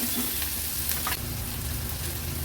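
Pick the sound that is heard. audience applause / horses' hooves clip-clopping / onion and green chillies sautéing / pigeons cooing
onion and green chillies sautéing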